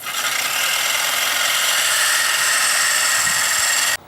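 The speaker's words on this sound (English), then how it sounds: "one that's real convenient that you can connect to a drill is one of these stone sharpeners" A drill-mounted stone sharpener grinds along the cutting edge of an electric lawn mower's blade, giving a steady, loud, abrasive whir that runs unbroken for about four seconds and then cuts off abruptly.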